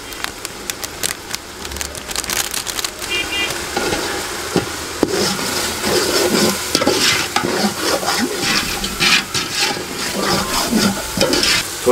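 Mutton sizzles loudly in a village-style biryani pot while biryani masala is stirred through it, with spoon scrapes and clatter over a constant close frying hiss.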